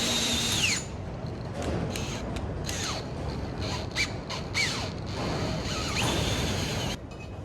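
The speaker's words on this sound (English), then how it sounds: "these all-in-one kind of drill, tap and deburr in one. You chuck it in a drill" A power drill with a combined drill, tap and deburr bit runs close by, its whine rising and falling with squealing, grinding bursts as the bit cuts into metal.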